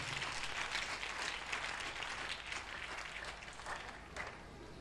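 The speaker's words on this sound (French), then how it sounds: "Acclame très fort Jésus bien-aimé." Church congregation applauding and cheering during a prayer service, a dense, steady wash of clapping and voices that holds loud throughout before easing slightly near the end.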